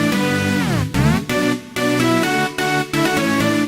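Synth saw layered with cello with all processing switched off, a loud, full sustained tone with gliding pitch bends and short rhythmic gaps between phrases, alone.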